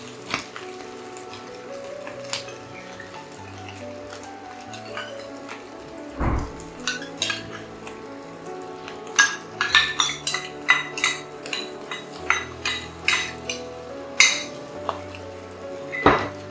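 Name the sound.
egg kothu chapathi being mixed with gravy in a pan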